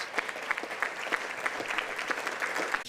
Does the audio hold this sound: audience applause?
yes